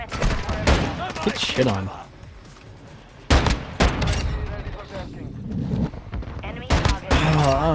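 Multiplayer gunfire in Call of Duty Modern Warfare 2 comes in sharp, loud bursts and scattered shots, mixed with game effects while someone talks over the action.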